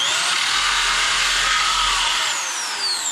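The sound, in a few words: Dremel-style rotary tool cutting RC car body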